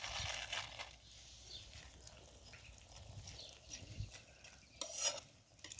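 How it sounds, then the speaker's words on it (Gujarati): A spoon stirs Kathiyawadi cashew gathiya curry in its seasoned gravy, making quiet, intermittent scraping and gentle liquid swishes at low volume. "ચમચો આપણે ફેરવી નાખશું"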